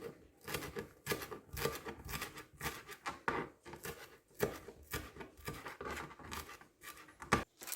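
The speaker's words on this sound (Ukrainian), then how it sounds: "Чуть-чуть кропу дрібнесенько нарізаю." A knife finely chopping dill on a cutting board, giving quick, repeated close taps and scrapes at a steady rhythm, faint and without talk.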